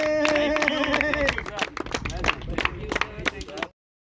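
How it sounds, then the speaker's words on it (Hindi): Spectators at a friendly blind cricket match burst into brisk clapping and applause, which fades into scattered claps and crowd chatter before stopping abruptly, with voices talking over it. "जोरदार तालियों के बीच में"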